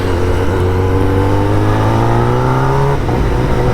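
Kawasaki ZX-10R motorcycle engine revving hard on a road, a loud, close, steadily rising engine whine that climbs for about three seconds, then cuts off abruptly.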